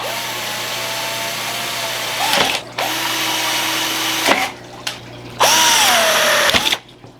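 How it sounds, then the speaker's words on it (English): A power drill whines at high pitch, cutting into PVC in several bursts with short pauses between, close and loud. "I go ahead and drill 3 holes on each of these bars"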